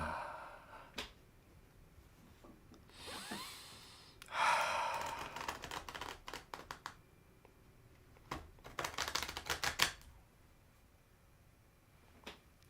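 Tarot cards being shuffled in quick riffling bursts, a short flutter early on, then a longer crisp riffle and a later burst, each separated by quiet pauses with faint breathing, close and fairly soft.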